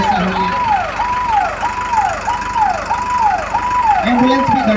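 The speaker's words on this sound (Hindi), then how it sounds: "एम्बुलेंस भी घटनास्थल पे पहुंच चुकी है।" An ambulance siren wails in a repeating rising and falling pattern, loud and close, over engine noise with faint voices underneath.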